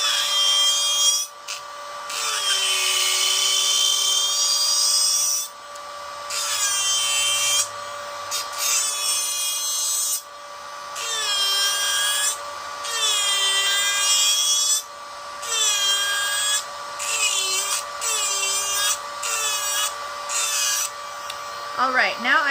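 A nail e-file drill whirs at its top speed of 30,000 RPM, a steady high whine that cuts in and out in short bursts as it works, with a constant tonal hum beneath.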